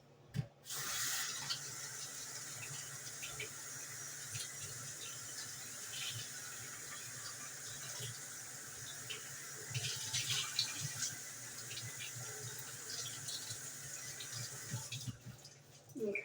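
Tap water runs steadily into a sink while a lid is washed, a continuous close rush with occasional clinks and splashes and no talking.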